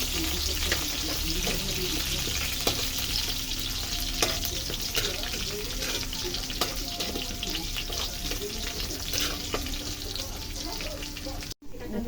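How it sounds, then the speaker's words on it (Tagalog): Onion and garlic sauté in a pan for Filipino adobong kangkong, a steady sizzle with faint stirring clicks and scrapes running continuously, briefly cut off near the end. "Ngayon ay magigisa na ako. Isa na ako guys ng sibuyas bawang."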